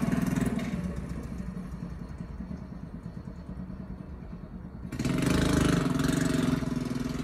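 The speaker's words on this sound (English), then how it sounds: "Had to let that little mini bike go." A small mini bike engine runs outdoors, a steady mid-pitched drone with knocking pulses that swells louder near the end as it passes close by, heard alone with no talk.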